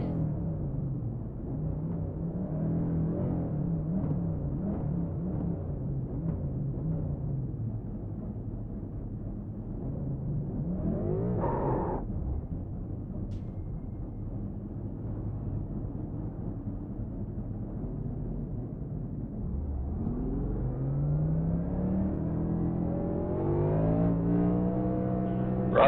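Race car engine in the iRacing sim at Talladega Superspeedway, a low, steady drone running under the pace laps with one brief higher-pitched whine midway and a rising rev climbing toward the end.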